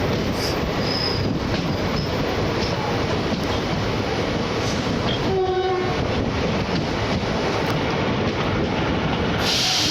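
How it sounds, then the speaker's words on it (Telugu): A train pulls away from Singapore Road station in Odisha, its horn sounding briefly midway over a steady, loud rumble of wheels and carriage noise with faint clatter. "సింగాపూర్ రోడ్ నుంచి మన ట్రైన్ అయితే తీస్తారు"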